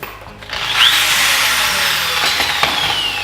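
A hammer drill bores into concrete for Tapcon bolt holes, a loud, close, continuous grinding whine with rattling hammer pulses, running steadily without talk.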